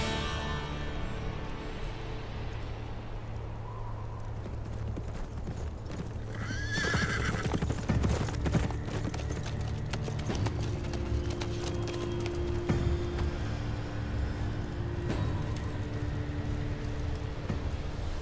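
A group of horses gallops with rapid, overlapping hoofbeats while neighs and whinnies rise above them, loud and continuous throughout, in a Turkish historical drama.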